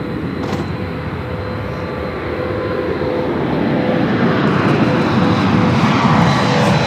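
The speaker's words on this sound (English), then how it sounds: "Air Canada Express, operated by Jazz Aviation 870, taking off to Ottawa on the CRJ 900LR" An Air Canada Express CRJ 900LR, operated by Jazz Aviation, takes off bound for Ottawa, its jet engine roar loud and steady and building slightly toward the end, with no talk.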